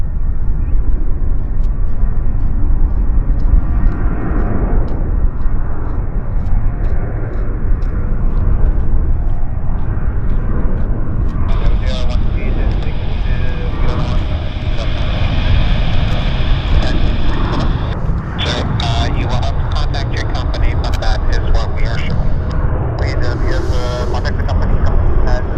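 Distant roar of a United Airlines jet rolling down the runway for takeoff at Vancouver airport, steady under wind buffeting and nearby excited talk.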